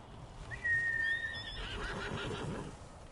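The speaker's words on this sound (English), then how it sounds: "Good horse." A horse in the Ghost of Tsushima video game neighs once, a bright rising whinny, followed by soft clip-clopping hooves and low rumble, moderately close and without talk.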